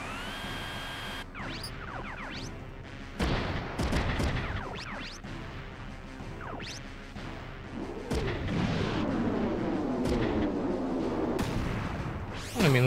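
Missile salvos and gunfire from the Front Mission 3 video game: sharp repeated blasts and crashing impacts in clustered bursts, with synthetic whooshes and tonal sweeps between them.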